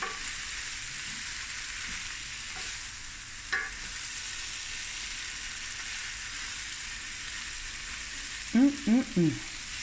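Prawns frying in a pan make a soft, even sizzle that holds steady throughout, with a few brief tonal chirps near the end.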